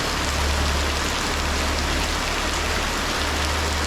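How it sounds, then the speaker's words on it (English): Steady, dense rainfall pouring down on a street, a continuous broadband hiss with a low rumble underneath, loud and unbroken throughout. "Look at all the rain!"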